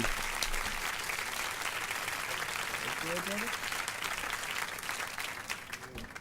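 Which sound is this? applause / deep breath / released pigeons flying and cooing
applause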